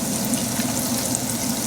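Pieces of fish frying in a large pan of oil for a Bengali mustard fish curry, a steady close sizzle and crackle that continues evenly the whole time.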